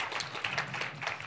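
Audience clapping at an Oxford-style debate at a philanthropy summit in Poland, scattered steady applause heard faintly from a distance.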